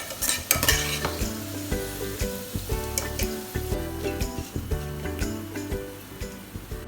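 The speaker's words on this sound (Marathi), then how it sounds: "उभा चिरलेला कांदा फ्राय करून घ्यायचा आहे गोल्डन ब्राऊन होसपर्यंत आपल्याला छान फ्राय करायचं आहे" Sliced onions frying in oil toward golden brown for a vegetable biryani, a bright continuous sizzle with frequent stirring clatters against the pan, close and fairly loud, with tonal background music underneath.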